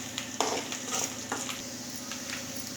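Dried red chillies fry in hot oil for lemon rice, giving a steady, soft sizzle with a few faint stirring scrapes and clinks from a pan, close by and without talk.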